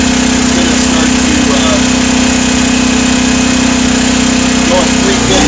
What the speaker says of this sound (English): You can hear the generator cycling on now.